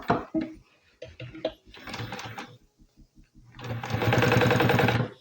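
A sewing machine sews bias binding around a curve on fabric for a placemat, working in short stop-start bursts and single stitches before a longer, louder steady run close by.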